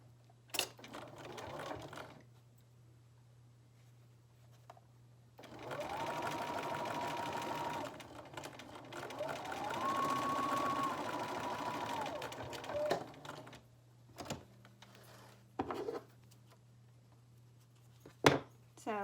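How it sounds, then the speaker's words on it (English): A sewing machine top stitches a fabric face mask, running in a steady, quiet mechanical whir for several seconds between short start-stop bursts and clicks. "And then from this back edge, you can top stitch."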